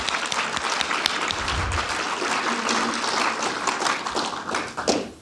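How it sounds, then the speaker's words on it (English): An audience at a Dublin jubilee gathering for postgraduate studies in applied spirituality gives a warm round of applause, steady clapping that swells and then fades out over a few seconds. "we might give them a little round of applause"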